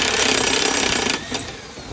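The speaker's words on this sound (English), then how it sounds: "I have to use this hammer to beat on it" A hammer beating on a Husqvarna mower deck spindle during replacement, making rapid, loud metallic impacts close by that run together as a continuous clatter before easing off.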